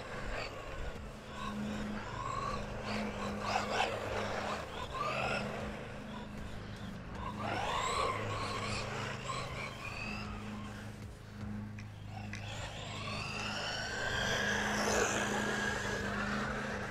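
A WLtoys 124018 1/12-scale RC desert buggy makes speed runs, its small electric motor whining up and down in repeated rising passes, near then farther, with faint voices in the background.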